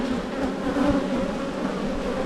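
Honey bees buzz thickly at an opened beehive, a dense, close, continuous hum that fills the short moment without any voices.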